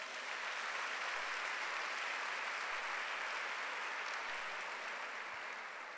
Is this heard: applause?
yes